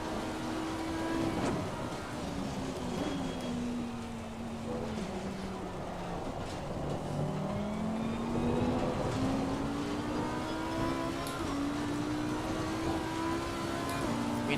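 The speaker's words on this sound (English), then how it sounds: "even on the straight lines you can hear the engine fighting" A race car engine in a racing video game at Oulton Park, droning continuously as the pitch climbs and falls through gear changes and corners, moderately loud and alone with no talk.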